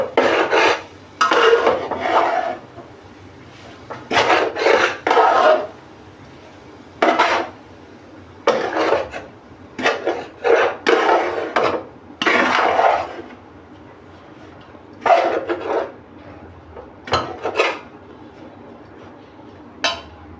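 Grated coconut is dry-roasted in a pan for ukadiche modak filling, heard as repeated bursts of dry scraping and rasping as a spatula stirs it against the metal, separated by short pauses.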